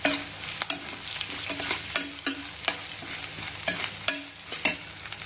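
Ginger garlic paste fries in a pan with a steady sizzle, broken by repeated sharp scrapes and clicks of a spoon stirring it, close and fairly loud, with no talking.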